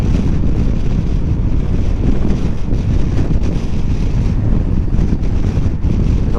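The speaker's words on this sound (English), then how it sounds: "I'm going to be quiet for a moment while it's very windy." Strong wind buffets a microphone on a moving Honda NT1100 motorcycle in a constant roaring rush, loud and unbroken, with faint engine drone beneath and no talking.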